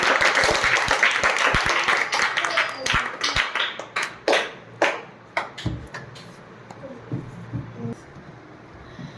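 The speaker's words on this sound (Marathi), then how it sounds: "जोरात टाळ्या एकदा क्षमासाठी" A group claps in a lively burst of applause that thins out into scattered, separate claps before fading.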